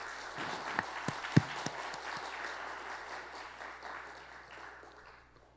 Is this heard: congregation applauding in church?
yes